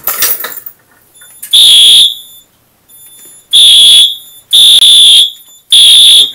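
Wheelock fire alarm horn sounding during a system pre-test: four loud, near, bright electronic tone blasts of roughly half to one second each, spaced with short gaps, following a brief rustle at the start.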